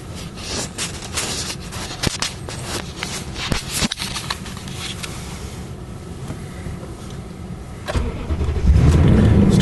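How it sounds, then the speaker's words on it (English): A Toyota Tundra with a faulty transmission starts up close by: a few rustles and clicks, then the engine catches near the end and settles into a louder, steady rumble. "Starting the vehicle"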